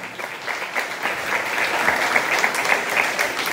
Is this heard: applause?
yes